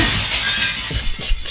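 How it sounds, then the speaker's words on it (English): Glass shattering in the survival horror game Resident Evil 4, a short, loud, close crash of breaking glass followed by a few scattered tinkling fragments. "Leon Scott Kennedy, wanted for breaking glass"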